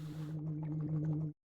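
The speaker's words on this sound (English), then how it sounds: "If you're hearing the squishy swooshy sounds, it's the sound of my VR interface." Squishy, swooshy interface sounds from a VR setup running Morrowind through OpenMW: a steady low warbling hum with a brief airy swish at the start, lasting just over a second before cutting off abruptly.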